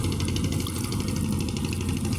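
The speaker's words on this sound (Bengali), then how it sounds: "ওইটা একটা ট্রলার যাচ্ছে" A trawler boat's engine chugs steadily as it passes on the Padma river, a continuous mid-pitched rumble with a rhythmic throb, fairly close and loud, with no talking.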